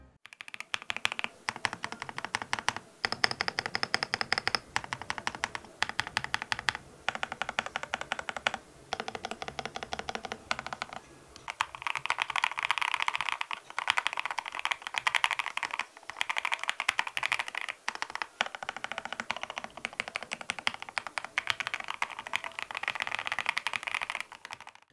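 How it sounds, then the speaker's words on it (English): Epomaker TH40 40% keyboard, gasket mounted with PBT cherry-profile keycaps and Wisteria linear switches, typed on steadily and up close, giving dense, undampened clacky keystrokes in quick bursts with brief pauses. "The Wisteria linear switch feels tactile with little resistance when pressed, making it great for typists."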